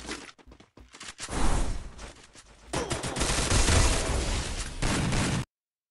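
Gunfire in a battle royale video game: loud, close bursts of rapid automatic shots, a few scattered rounds first, then sustained volleys that stop abruptly.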